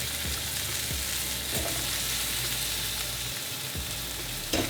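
Fish fries in butter in a pan, giving a constant loud sizzle with a few brief knocks and scrapes, close up and without speech.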